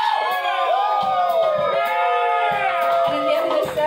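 A crowd at a live band gig cheers loudly with whoops and yells, a dense, close burst of voices that lasts the whole moment.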